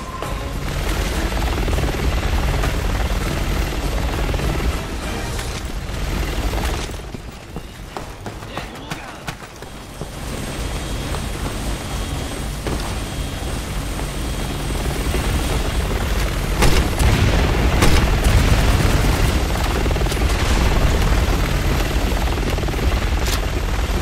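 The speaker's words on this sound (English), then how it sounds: "The chopper's back to finish the job!" An attack helicopter in the video game Resident Evil 6 makes a loud, continuous rotor roar that dips briefly and then swells again, mixed with gunfire-like crackle and game noise.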